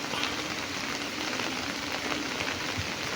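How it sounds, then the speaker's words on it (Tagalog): Heavy rain pours down on a farm where cattle are kept, a steady dense hiss with no break throughout. "Talagang matindi ho ang ulan."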